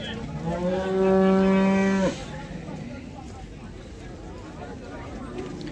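A single long, loud cow moo lasting about a second, followed by low outdoor background noise.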